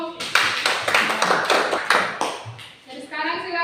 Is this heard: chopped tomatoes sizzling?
no